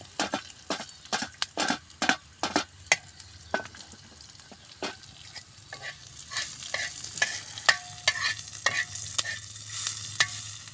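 Coriander seeds roasting in a pan over a wood-fired stove, with close, sharp clicks and scrapes of stirring and a steady sizzle underneath that grows busier toward the end, no voices.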